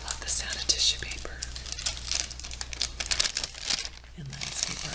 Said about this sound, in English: I love the sound of tissue paper.